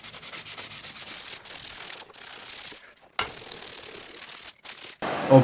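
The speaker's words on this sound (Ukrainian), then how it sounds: "Шліфуємо наждачкою з дрібним зерном." Close, rhythmic rasping of fine-grit sandpaper rubbed back and forth in quick strokes on an axe, broken by a few short pauses.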